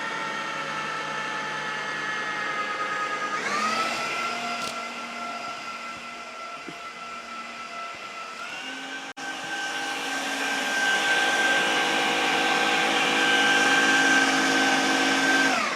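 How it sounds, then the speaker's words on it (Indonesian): A blender mixing chicken meatball dough whirs steadily and loudly, its motor pitch shifting a couple of times as the speed changes, with no voices over it. "setelah itu kita siap blender kembali sampai tercampur rata"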